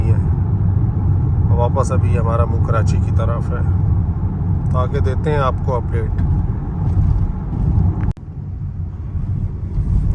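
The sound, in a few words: Changan Oshan X7 SUV driving at night on road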